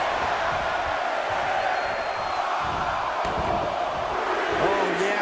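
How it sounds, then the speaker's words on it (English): Arena crowd noise from a WWE 2K22 women's Royal Rumble match, a steady loud roar of cheering that fills the whole stretch, with faint commentary voices underneath. "Listen to this crowd"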